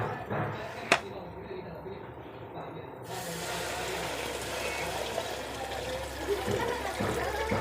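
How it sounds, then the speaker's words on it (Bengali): Hot water is poured into a cooking pot, a sharp clink followed by a continuous rushing, splashing pour that runs steadily to the end. "তো চলো এখন গরম জলটাকে ঢেলে দিই"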